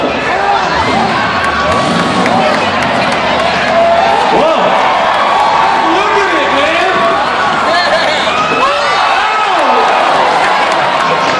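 A crowd at a truck event cheers and shouts in a dense, unbroken roar for over ten seconds, with excited voices calling out close by.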